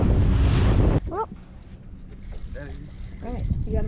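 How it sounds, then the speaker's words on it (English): Waves slapping against a small fishing boat on Sarasota Bay, Florida, a loud rush of wind and splash at the start, then quieter water sounds with gulls or birds calling faintly in the background. "we're getting splashed by waves"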